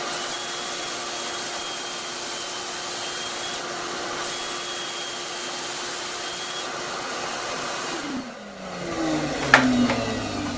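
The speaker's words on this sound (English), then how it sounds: "once you get your holes drilled, you're just going to screw in your first piece" A power drill with a pocket hole jig bores into wood, a steady high whine with a brief drop in the middle, then the motor spins down with a thump and rattle near the end.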